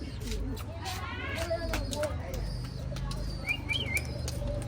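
Pigeons coo and chirp near a coop, with faint wing flaps and bird calls through the clip. People talk almost constantly over the birds.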